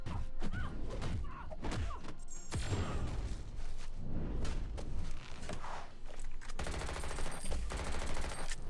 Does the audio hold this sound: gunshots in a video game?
yes